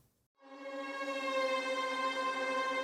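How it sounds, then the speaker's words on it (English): Eerie, cinematic Arturia Augmented Strings patch, entering after a short silence as a sustained harmonic string tone that slowly bends downward in pitch, moderately loud and alone. "Then I found this one that was really cool from Augmented Strings by Arturia. And this one has like it bends downward"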